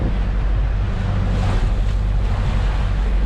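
Ocean waves about 2.5 meters high wash around a sailboat under engine off La Palma, a steady loud roar of surf and water with wind rumble on the microphone throughout.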